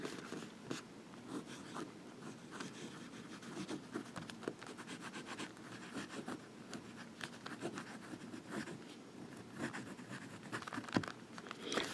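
A Pilot Metropolitan fountain pen with a medium nib writing on paper, giving steady soft scratchy nib strokes and quiet rustle throughout, close and faint with no voices.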